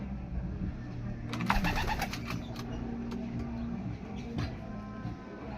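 Pigeons coo softly in a loft at a pigeon-racing session, low repeated calls under steady background noise, with a brief burst of wing flapping or rustling midway.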